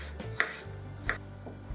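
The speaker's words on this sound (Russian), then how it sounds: "Мелким кубиком нарезаю огурцы" A knife dices pickled cucumbers against a cutting board in a few sharp, close taps, spaced unevenly, with no voices.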